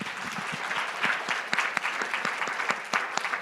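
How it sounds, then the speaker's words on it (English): Conference audience applauding, with dense, sustained clapping and a few sharp, distinct claps standing out close by, steady throughout. "Can we give an applause?"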